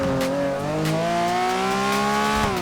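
A Lamborghini in GTA 5 accelerates with a loud, rising engine tone climbing steadily through the gears, near and continuous, with a brief dip and shift near the end.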